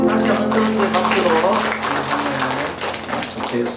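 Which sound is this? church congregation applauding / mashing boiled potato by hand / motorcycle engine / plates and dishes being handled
church congregation applauding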